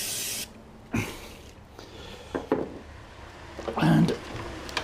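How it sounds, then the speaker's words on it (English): An aerosol can sprays white grease near a battery connection on a 1972 Triumph Dolomite, with short hissy bursts among quiet handling noises and a louder spray near the end. "I'll give it a toot of white grease"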